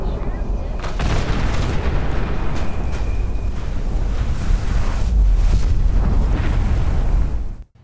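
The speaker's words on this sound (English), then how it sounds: "You're not going to be surviving a nuclear explosion with the preservation shelter." A nuclear explosion in the video game Fallout 76 heard from inside a preservation shelter, a loud sustained roaring blast rumble with heavy low-end that churns for several seconds before cutting off abruptly.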